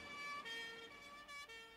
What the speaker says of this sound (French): on entend une sirène de pompiers